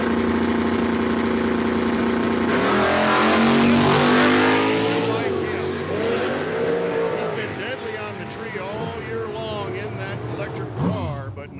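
Drag racing cars launch at Cordova Dragway, among them an Oldsmobile, with loud revving engines that rise and then fade down the strip while an announcer talks over the track PA.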